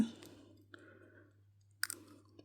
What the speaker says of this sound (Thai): กินขนมฟักทองกันไหมทุกคน